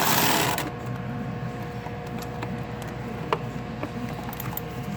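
Hand tool work on the rear intake bolt of a Ford PowerStroke diesel engine: a steady, rapid mechanical whirring and clicking close by, with a few sharper clicks near the end and a louder burst at the very start.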